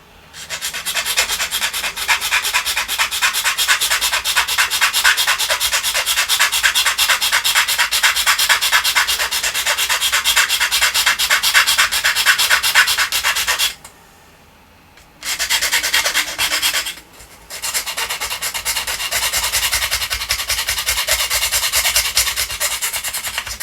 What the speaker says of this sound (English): I'm just about to file up the other two, the top and bottom now, because I need a smaller file